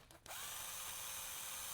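Power drill boring a hole in a GSX-R750 project bike's clip-on handlebar for a locating pin, a steady high whine starting abruptly after a short pause and continuing at an even pitch.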